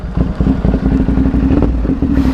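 A CFMoto 450SR motorcycle runs on a ride around the block just after an oil change, its engine giving a close, steady low drone with rapid rhythmic pulsing and light clatter throughout.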